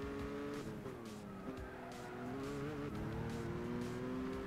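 A race car in Gran Turismo 6 driving hard, its engine note steadily rising and falling through gear changes with tires squealing, continuous and fairly quiet.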